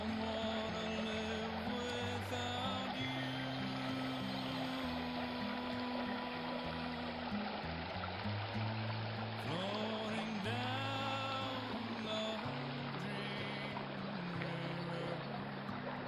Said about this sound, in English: But here's the beautiful Medina River.